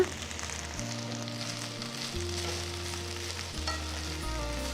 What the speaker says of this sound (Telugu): గుప్పెడు మెంతాకులు వేసి అంతా కలిపి వేయించాలి